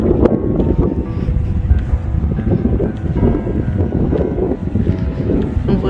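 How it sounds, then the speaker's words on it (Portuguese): Cold wind blowing hard outdoors, a loud continuous buffeting rumble across the microphone with gusty swells and no speech. "Mesmo com o vento gelado."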